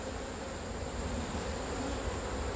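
A steady, dense drone of honeybees swarming around a beekeeper at the hive, a continuous buzzing hum lasting a few seconds with no voices over it.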